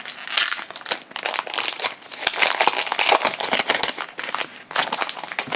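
Plastic foil wrapper of a Pokémon XY9 Breakpoint booster pack crinkling and tearing open, a continuous close-up run of crackly crumples and rips with brief pauses, no talking.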